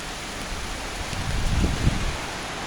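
Heavy rain pours down in Porto Alegre, a dense steady hiss of falling water with a few heavier splashes and thumps near the middle, no voices.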